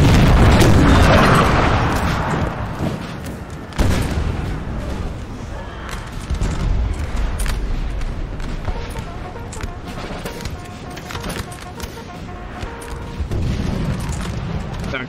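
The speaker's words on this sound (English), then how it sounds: "Artillery trying to like duel out with the other French artillery." Napoleonic artillery booming in a Napoleon Total War 3 battle at Friedland, a heavy blast up front followed by scattered distant thuds and crackling fire over a continuous rumbling din.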